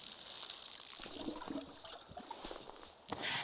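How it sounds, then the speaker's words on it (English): Flowing river water in the video game Palia runs as a soft, steady trickle and gurgle, with a brief louder splash near the end and no talking. "I do like the sound of the water as well"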